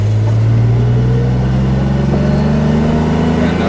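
A DeLorean time machine replica accelerates onto a highway, its engine droning loud and steady with rising tones and a constant road rumble, heard from inside the car.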